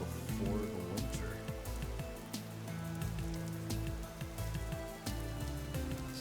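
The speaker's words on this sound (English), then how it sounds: "It is raining." Rain falls in the survival game Vintage Story, a steady, soft patter running throughout, layered with faint tonal game sounds.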